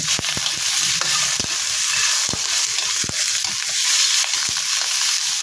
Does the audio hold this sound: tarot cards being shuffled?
no